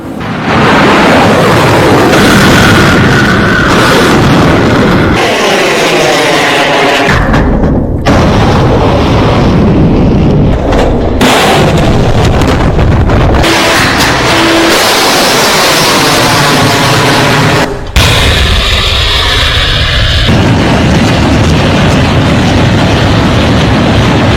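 An S-400 air-defence system launches missiles and intercepts them with mid-air explosions. A continuous, very loud roaring rumble is broken by several booming bursts across abrupt cuts, with no talking.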